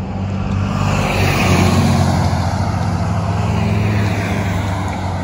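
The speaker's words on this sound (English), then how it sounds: "Wait for all these cars to pass." Steady traffic of cars and trucks passing on a road close by, a loud continuous engine and tyre roar that swells and holds throughout.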